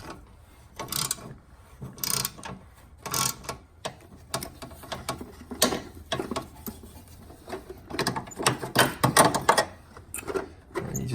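A socket wrench ratchets to loosen the oil filter cap on a Fiat 500 Abarth, with close, repeated clicking bursts and mechanical rattles in an irregular rhythm, and no voices.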